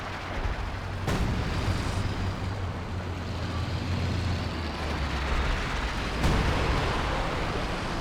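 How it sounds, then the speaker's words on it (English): Continuous British artillery barrage in Company of Heroes 2, a steady rumbling wash of distant shelling with low booms and two sharper impact bursts spaced several seconds apart, sustained without talk. "British barrage running on in"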